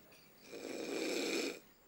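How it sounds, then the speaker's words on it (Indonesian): A single snore from someone asleep, a close, rasping inhaled rumble lasting about a second. "Anak buah jam segini udah pada ngorok"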